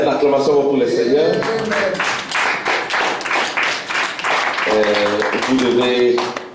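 A church congregation claps rhythmically in acclamation, a series of loud, evenly spaced handclaps, with a voice singing or calling out at the start and near the end.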